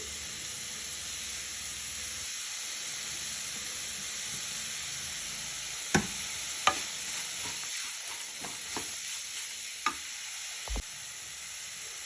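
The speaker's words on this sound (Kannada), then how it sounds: "ಸ್ವಲ್ಪ ಎಲ್ಲ ಬಾಡಿಸ್ಕೊಂಡ್ಮೇಲೆ ನಾನು ಕರಿಬೇವು ಹಾಕ್ತಾ ಇದ್ದೀನಿ" Curry leaves sizzling and frying in hot oil while being stirred, a steady hiss throughout with a few sharp utensil clinks and scrapes in the second half, no talking.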